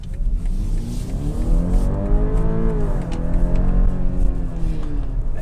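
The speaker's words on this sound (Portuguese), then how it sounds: "vocês viram que a aceleração dele impressionante" A BMW X3 xDrive30e plug-in hybrid SUV accelerates hard, its engine note rising steadily in pitch over several seconds, loud and close with no talking.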